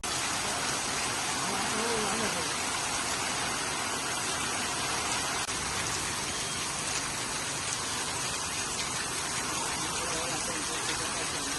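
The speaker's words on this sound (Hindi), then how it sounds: "गुजरात के वडोदरा जिला के डभोई में भी लगातार बारिश हो रही है।" Heavy, continuous rain falls in Dabhoi, Vadodara district, Gujarat, as a dense, even hiss that never lets up, with faint voice fragments briefly surfacing under the downpour.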